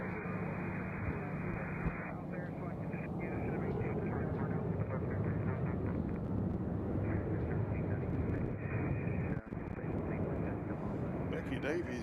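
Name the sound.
United airliner at Nashville International Airport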